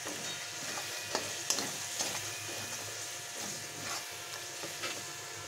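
Spatula stirring and scraping coriander powder into frying spices in a pan, a steady quiet sizzle with soft intermittent scrapes and a few sharper knocks, close and alone.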